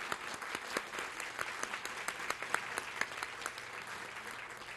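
An audience at an annual business meeting claps for everyone, a moderate, steady round of applause with scattered sharper claps, heard at a middle distance.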